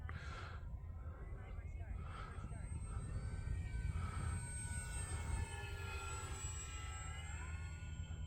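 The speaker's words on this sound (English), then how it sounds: "That was about a half throttle pass with the wind." Arrows RC P-51 Mustang model plane making a half-throttle pass with the wind on a winter day, a steady engine drone with shifting whine as it passes by, under someone talking.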